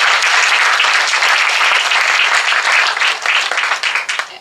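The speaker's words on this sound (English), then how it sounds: "So I would like to give a big applaud to every one of the guest speakers and a very attentive audience of today." Sustained, loud applause from a seminar audience on sustainable development, honoring the guest speakers, a dense, even wash of many hands clapping that holds steady before thinning slightly toward the end.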